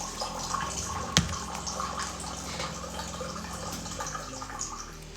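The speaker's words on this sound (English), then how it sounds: "I will pour a glass of water of Essentia." Essentia bottled water pours into a glass in a steady, fairly quiet trickle that lasts several seconds, with one brief knock near the start.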